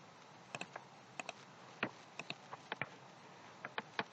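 Quick, uneven keystrokes on a computer keyboard as data is entered into a school inventory application, with sharp close clicks arriving in small clusters and no talking.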